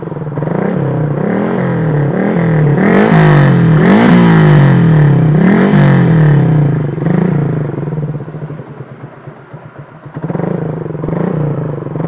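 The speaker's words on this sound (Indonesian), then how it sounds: "Jadi kalau untuk mode silentnya itu dia emang kayak motor standar." A Honda MX King 150 motorcycle with a Tridente F20 Raptor exhaust in silent mode revs repeatedly in rising and falling surges, close and loud, dropping briefly to a rough idle before revving again.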